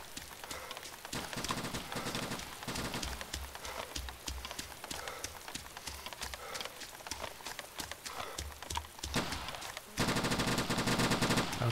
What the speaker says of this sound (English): Shots are getting louder.